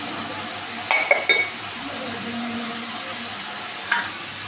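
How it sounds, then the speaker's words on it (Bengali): Spice masala for okra being stirred and fried in oil in a pan, a steady soft sizzle with a few sharp clinks of a spoon against the pan near the start and once near the end. "নাড়াচাড়া করে ভালো করে ভাজতে হবে।"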